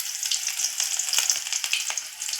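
Sliced onions sizzle and fry in hot oil in a home kitchen pan after dry roasting, a steady close crackling hiss with scattered pops, no voices.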